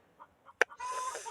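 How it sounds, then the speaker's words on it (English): Garden chickens clucking close by, a few soft short clucks followed by a sharp squawk and then a longer burst of continuous cackling, loud and alone without talking. "Oh, the chickens."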